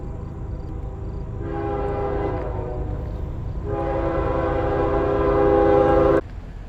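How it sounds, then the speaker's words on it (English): A passing train rumbles steadily nearby while its horn blasts twice in long, loud, sustained tones, the second longer, before cutting off abruptly. "Okay, the train has passed."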